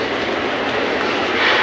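A Mumbai metro train running out of Andheri gives a loud, continuous rumble with a steady roar throughout and no talking.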